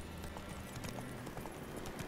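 Horse hooves clip-clop in the video game Witcher 3: Wild Hunt, a quiet run of irregular soft knocks over a low ambient bed.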